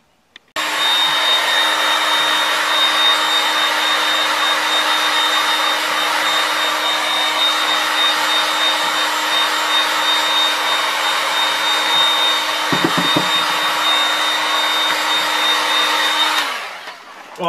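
A heat gun warms a Kydex sheet for an axe sheath, blowing with a loud, steady, even whoosh and a faint whine that runs unbroken for about sixteen seconds before winding down.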